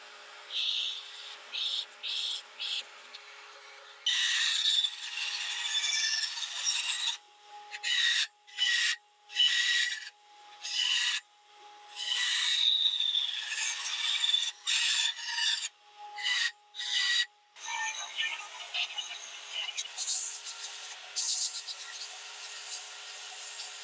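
Hand rasping and carving of wood to cut a hex pattern and handle on a DIY mobile tool base, heard as a steady run of scratchy strokes broken by short pauses, close and moderately loud with no talk.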